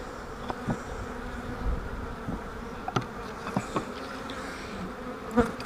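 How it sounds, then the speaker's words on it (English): Honey bees buzz steadily around an open hive during an inspection, a close, continuous drone with a few individual bees passing near, no voices. "there's just not a whole bunch of bees in here"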